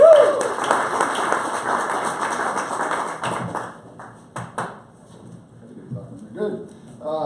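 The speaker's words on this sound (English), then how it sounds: "let's give them all a big round of applause." Applause from a small group at a sales meeting, fairly full clapping at first that thins out into scattered claps, with brief talk or other sounds near the end.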